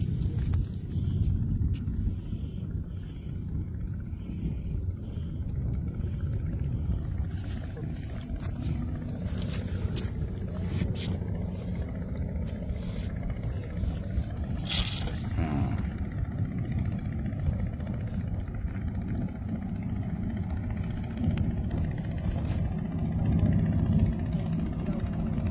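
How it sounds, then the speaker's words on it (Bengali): Engine of a hilsa fishing trawler droning steadily on a river char near the Bangladesh–India border in Kurigram, a loud, continuous low rumble that holds level throughout with faint voices now and then. "ইলিশের নৌকা, ট্রলার আর কি"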